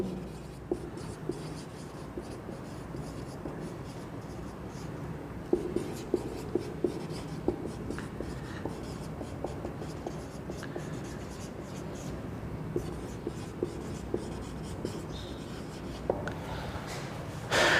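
A pen scratches steadily across paper while a letter of job application to a school principal is written out, with faint ticks and strokes running continuously under a low room hum and no talk.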